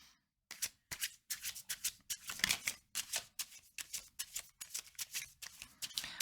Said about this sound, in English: We'll get some more cards.